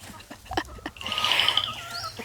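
Soft clucks and scratching of chickens close by, followed by a higher drawn-out bird call, fairly quiet.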